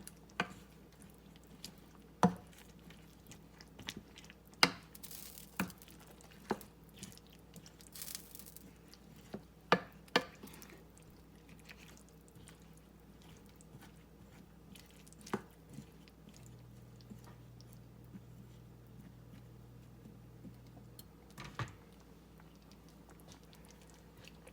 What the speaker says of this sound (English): And now we're just going to toss and mix in our potatoes.